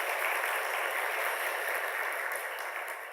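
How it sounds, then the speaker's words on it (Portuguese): An audience at a lecture claps for a guest speaker as certificates are handed over, a sustained, fairly loud round of many-handed applause that keeps an even pace throughout. "Uma salva de palmas."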